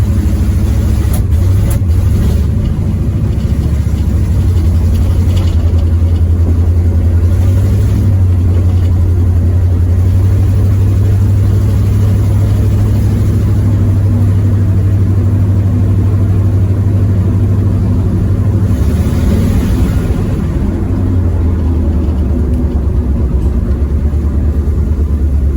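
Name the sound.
1973 Firebird engine running and revving with carburetor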